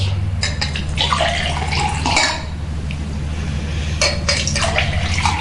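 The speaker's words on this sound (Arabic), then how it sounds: "طب يلا بقى صب لنا شوبين عشان نبعت المسج" Drinks being poured into two glasses during a celebratory toast in a comedy scene, with a steady liquid splash running through, strongest at the start and again near the end, over a low background hum.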